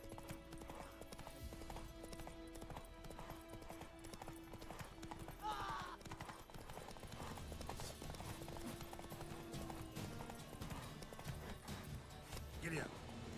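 Hooves of the horse Roach clip-clop at a gallop in The Witcher 3, a steady rapid beat under game music and ambience, with a brief whinny-like sound and a voice heard faintly.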